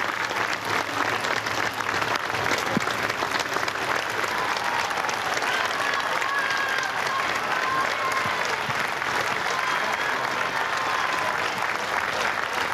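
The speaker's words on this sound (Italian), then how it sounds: "Le sentite le voci e gli applausi, grazie, che arrivano dalla piazza e dalla scala della chiesa" Sustained applause and crowd noise rise from the square and church steps outside the Basilica of Santa Maria in Ara Coeli in Rome during a funeral, a steady dense clapping that fills the whole stretch.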